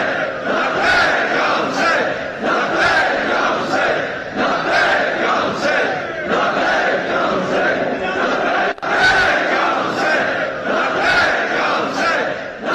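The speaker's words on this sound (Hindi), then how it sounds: "कैसा आक्रोश है, नारेबाजी की जा रही है" A large protest crowd chants slogans in loud, rhythmic waves, voices rising and falling together continuously with a brief sharp thump partway through.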